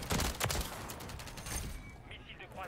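Rapid bursts of DG-58 rifle fire in Modern Warfare 3 crackle loud and close in quick strings of shots, then trail off into a quieter stretch near the end.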